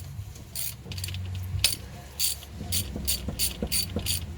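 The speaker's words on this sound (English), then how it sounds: "Support the compressor with your free hand as you take the last bolt out." A socket ratchet clicks in quick bursts while the last alternator bolt comes out of a 2012 VW Passat 2.5 five-cylinder, with close metallic ticking and faint handling noise.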